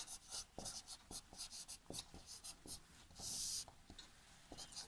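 Chalk or marker strokes on a classroom board during a Sanskrit lesson for eighth graders, a run of short scratchy taps and scrapes at close range with a longer hissing stroke near the middle.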